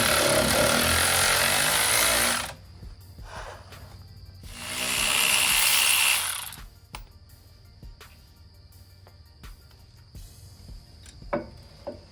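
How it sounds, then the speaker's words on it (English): Two long, loud whirring bursts from a powered tool undo the brake caliper bolts on a GMT800 Escalade during a six-piston Brembo brake upgrade. Quieter clicks and light metal taps follow in a garage. "So now when we unbolt the caliper, we can move it all the way back here out of the way."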